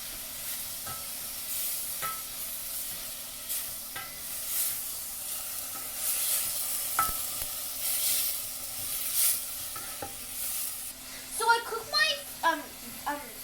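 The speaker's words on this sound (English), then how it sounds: "So I'm gonna put my mixed vegetables. Then I'm gonna mix it together." Meat and onions sizzle in a pot as mixed vegetables are added and stirred in for squash soup, with steady hissing and rhythmic utensil scrapes, and a voice speaking toward the end.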